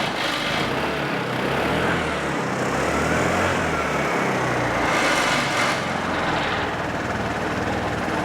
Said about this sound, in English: So while we're allowing the motor to warm up